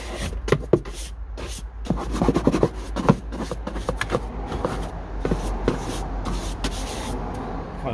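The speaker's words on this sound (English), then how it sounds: "Kind of brush off as much loose stuff as possible before applying the degreaser." A stiff brush scrubs loose debris out of a car engine bay before degreasing, a steady run of close, dry scratchy strokes with sharp brief scrapes and knocks throughout, no voices.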